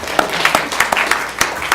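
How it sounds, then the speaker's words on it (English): An audience claps in a room, a brief burst of crisp, fairly close hand claps at an irregular rhythm. "yeah, you guys can clap for him."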